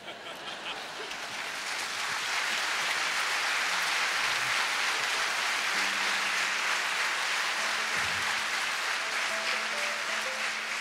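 Concert audience applause in the Cankarjev dom hall, swelling from quiet to a dense, sustained roar of clapping that holds steady, with faint voices and tones under it.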